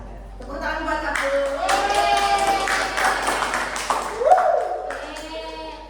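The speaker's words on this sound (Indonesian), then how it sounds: "Tepuk tangan buat aku." Brief clapping in a school lesson setting, light hand claps mixed with voices and a child-like speaking tone, close and moderately loud, with talk running through most of the clip.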